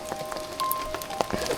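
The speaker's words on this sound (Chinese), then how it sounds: "变大雨了！" Heavy rain pouring on a Taiwanese mountain trail near Dabajian Mountain, a dense hiss of drops with scattered sharper patters against nearby surfaces, brief and continuous.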